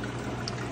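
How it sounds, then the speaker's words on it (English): Steady rushing flow from a 3200 gallon-per-hour Poafamx return pump feeding three frag tanks plumbed to a 75 gallon aquarium, a constant close, even wash of moving water with no pauses. "you see the water movement I'm getting on that. You know, pretty good return flow"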